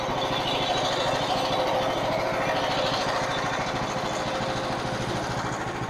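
A Frontier OS27 sawmill cutting ash lumber, with the engine running close by at a steady, rapid chugging pulse and a continuous rough cutting drone, even in loudness throughout.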